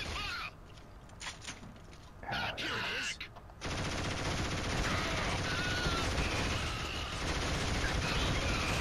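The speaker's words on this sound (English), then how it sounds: "Oh, machine gun" Dense, continuous machine gun fire in the video game Killzone, loud and sustained after a few shorter bursts, with a voice talking over the opening seconds.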